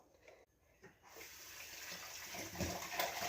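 Water poured into a pan while making fish curry, a steady gushing splash that swells and grows louder over a few seconds, close and alone.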